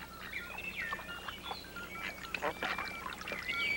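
Large waterfowl of the goose family in Hokkaido, northern Japan, calling on the water: faint, scattered honking and nasal calls from several birds at a distance, overlapping irregularly against a soft background hiss.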